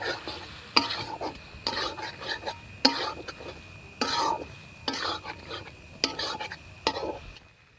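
Ground onion, garlic and ginger spice paste being fried and stirred in a pan for a spicy Bengali fish curry, with bursts of sizzling and scraping spoon strokes repeating about once a second, close and fairly loud, no talking.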